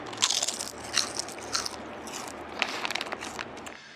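Thick-cut potato chips crunched up close, several crisp bites and crackly chewing in uneven bursts, with no talking.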